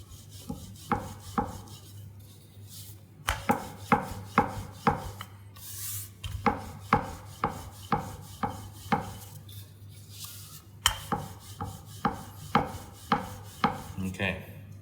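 Cauliflower pizza dough being rolled and pulled apart on a floured surface, a steady series of sharp, close knocks and rubbing strokes in an even rhythm over a low background hum, with no talk.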